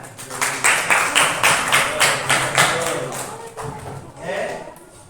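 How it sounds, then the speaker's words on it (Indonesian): A class of students claps hands together in a Javanese-language lesson, a run of loud, rhythmic claps in unison that fades into scattered claps and voices near the end. "Tepuk tangan."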